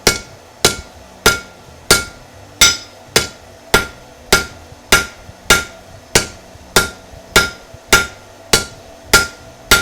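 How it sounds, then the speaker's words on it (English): A blacksmith hammers hot steel on an anvil while forging a point, each blow a sharp, loud metallic ring in a steady rhythm, roughly fifteen strikes, up close with no talking. "I'll start forging a point out."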